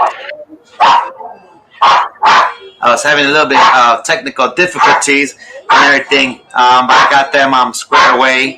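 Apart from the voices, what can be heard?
dog barking in the background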